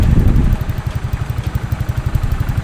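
Close behind a motorcycle fitted with a stock AHM racing exhaust, the engine idles in a steady low, even putter, brief louder burble at first, then a quiet regular pulse.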